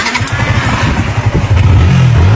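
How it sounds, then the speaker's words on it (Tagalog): A repaired motorcycle's engine catches and runs, its low throbbing idle pulsing steadily, then revving up louder toward the end, close by with no voices. "Ayusin mo nga tong motor, Kalbo."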